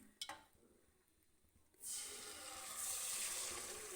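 Chicken pieces dropped into hot oil in a kadhai set off a sudden loud, steady hiss and sizzle that continues close up after a few quiet seconds of light clatter.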